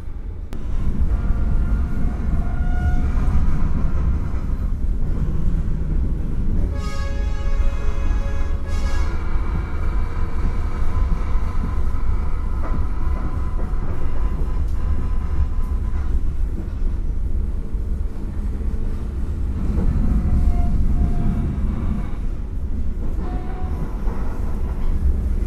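Passenger train running on rails in West Sumatra, a loud continuous rumble and rattle of wheels over track, with a brief horn-like tonal blast early on and steady rolling noise throughout, no voices.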